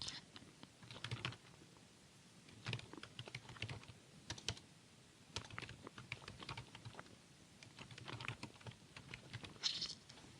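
Fast, uneven computer keyboard typing while data is entered into accounting software, clicking in quick bursts with short pauses, close and fairly quiet, with no voice over it.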